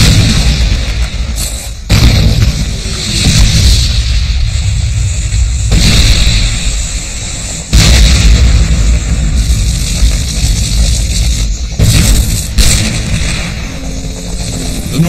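Prolonged artillery bombardment at Khe Sanh during the Vietnam War: a dense, loud barrage of deep booms and blasts with rumbling between them, several heavy impacts standing out in an almost continuous roar.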